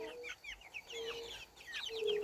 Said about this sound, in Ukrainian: Ось які мої курчата.